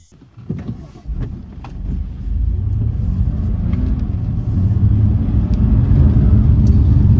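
A BMW M2 CS sets off from a standstill, heard from inside the cabin: a few clicks and knocks, then a deep engine rumble that builds into a steady, loud low drone as the car gets moving.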